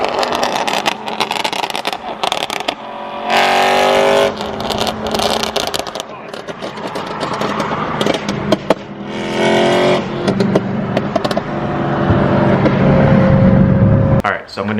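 A BMW M3 fitted with a new Valvetronic aftermarket exhaust revs loudly and close in repeated bursts, with a sustained rising roar near the end and a voice speaking between the revs.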